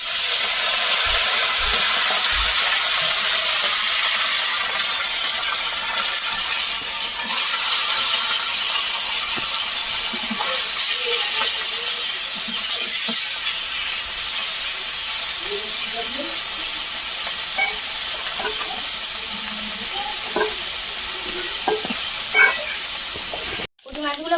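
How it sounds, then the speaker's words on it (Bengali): Small puti fish fry in hot oil with a loud, steady sizzle and hiss that runs throughout, broken by scattered pops and crackles, with a brief clatter near the end. "এবারে কিন্তু পুঁটি মাছগুলো ভেজে নেবো"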